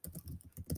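Quick, quiet keystrokes on a computer keyboard as a search word is typed, a short run of soft clicks close by.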